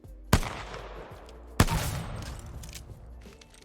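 Two loud P2020 pistol shots in the Apex Legends video game, spaced about a second apart, each a sharp crack with a decaying echo tail and no talking over them.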